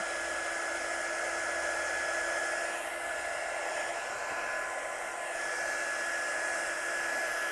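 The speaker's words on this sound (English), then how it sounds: "to use my heat gun and just blast it off a little bit" A heat gun blows on damp, slightly warped ordinary cardstock during card making, giving a steady loud whooshing roar with a faint whine that holds unbroken throughout, with no talking.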